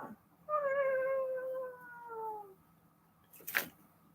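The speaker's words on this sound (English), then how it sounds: "She's meowing." A cat lets out one long, drawn-out meow close by, followed by a brief soft noise after a pause.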